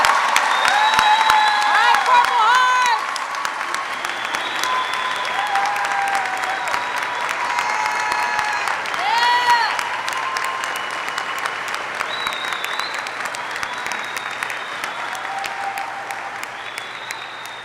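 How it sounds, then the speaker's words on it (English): Sustained applause from a large crowd at a military warrant officer graduation, steady and loud throughout, with scattered whoops and a few voices mixed in. "Please join me in a round of applause for these outstanding warrant officers."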